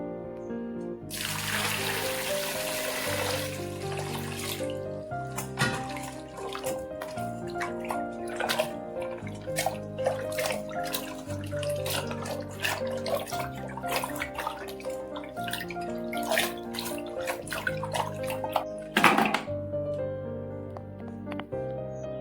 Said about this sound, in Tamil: இப்ப தண்ணி ஊற்றி நல்லா கழுவி எடுத்துடும்.